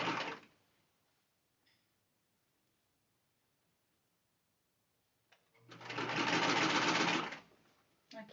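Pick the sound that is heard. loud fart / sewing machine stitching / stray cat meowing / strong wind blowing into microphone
sewing machine stitching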